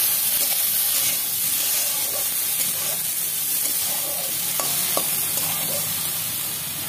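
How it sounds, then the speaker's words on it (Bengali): Fish oil sizzles in a pan with onion and brinjal in a home kitchen. A loud, steady frying hiss fills the whole stretch, broken by a few clinks of stirring, with no voices. "তারপর আমি তেলটা দিয়ে দেবো মাছে।"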